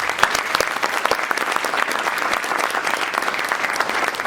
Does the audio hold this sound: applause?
yes